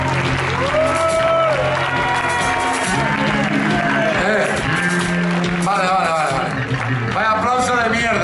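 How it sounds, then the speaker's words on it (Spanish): A concert crowd at a heavy metal show claps and cheers steadily throughout, with loud shouted voices rising over the applause. "Vaya aplauso de mierda."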